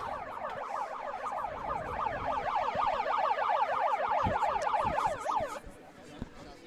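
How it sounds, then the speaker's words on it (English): A wailing siren at an England Hockey Premier Division match between Southgate and Holcombe men, rising and falling in a fast repeated sweep for several seconds over crowd noise and thumps, then cutting off abruptly. "The siren not a call for evacuation."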